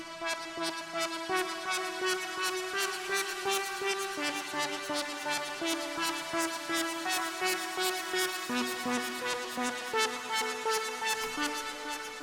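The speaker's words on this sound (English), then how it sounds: "the drop lead consists of a bunch of 16th notes, and every third beat the tone attacks" An unprocessed electronic synth drop lead plays steady 16th notes, with a tonal attack on every third beat. The bright, dense pulses run alone at an even level throughout.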